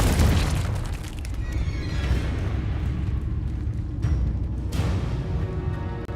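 The Confringo fire spell in the Hogwarts Legacy video game goes off as a loud, sustained booming blast with heavy low rumble and crackling debris, filling the whole stretch without pause.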